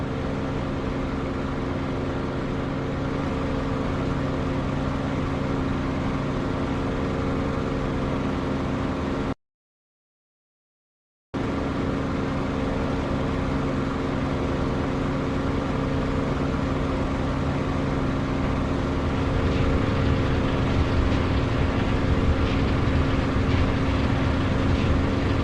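A flight-sim aircraft engine running rough while in flight drones steadily and loudly throughout, with a short dropout in the middle and a slightly harsher stretch near the end.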